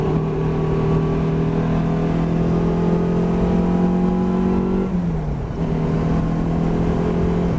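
A car accelerates on the Nürburgring Nordschleife, its engine droning steadily and rising in pitch before a brief gear change and renewed pull, heard close and alone without talk.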